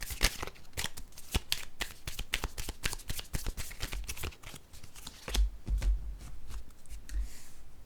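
Tarot cards are shuffled in a steady run of crisp riffling and slapping bursts, close and fairly quiet, with a few louder handling thumps near the end and no talking.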